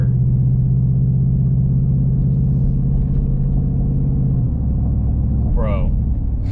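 A Chevrolet Silverado pickup with the 5.3 engine cruises along, its steady low engine drone and road rumble loud and constant from inside the cab. The pitch dips partway through as it shifts.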